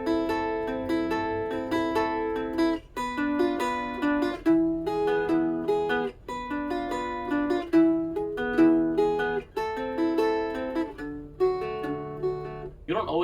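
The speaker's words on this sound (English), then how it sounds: "If I were to play the triad in triplets, it would actually sound like this." Triad notes of a montuno pattern are plucked in steady triplets on a cuatro, a close, ringing stream of quick notes moving through changing chord shapes.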